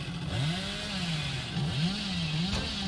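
Hillbilly's chainsaw in Dead by Daylight, a buzzing motor whose pitch rises and falls in revving swells, steady and fairly close with no talking.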